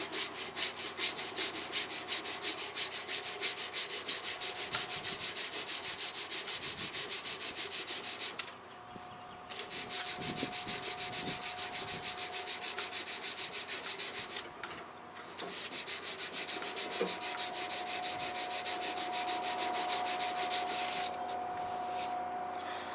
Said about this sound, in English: Lots of sanding